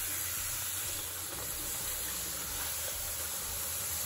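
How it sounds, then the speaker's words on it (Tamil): Tapioca chips deep-fry in hot oil, giving a loud, steady hiss and sizzle that stays close and even throughout, with no voices. "அந்த எண்ணெய் பொங்குறது வந்து பாருங்கள் அடங்கிருச்சு."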